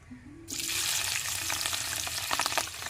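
Slit green chillies dropped into hot oil for chicken 65 burst into a loud, close sizzle that stays steady and crackling after a quiet start, with a few stirring clicks near the end.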